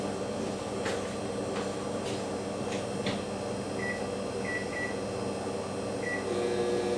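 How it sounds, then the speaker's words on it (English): A microwave oven hums steadily while melting chips, a constant mechanical drone with a few soft clicks early on and faint intermittent high beeps later. "you have to monitor this when you microwave them"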